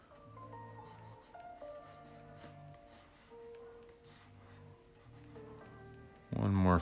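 A pen scratching across paper while drawing, soft strokes under continuous background music, with a louder burst of voice at the end.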